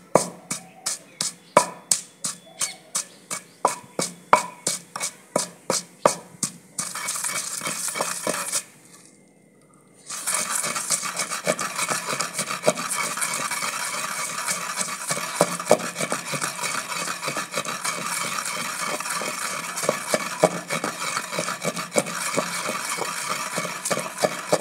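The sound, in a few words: grinding green chillies and garlic by hand for chutney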